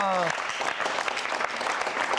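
Steady studio audience applause fills a Bulgarian TV talk show, continuous and even, opening with a brief sustained voice that fades as the clapping carries on.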